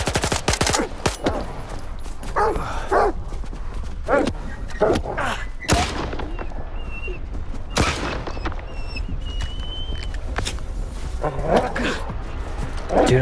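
Dogs bark aggressively in Stalker 2, sharp repeated barks and yelps mixed with bursts of gunfire, loud and chaotic throughout.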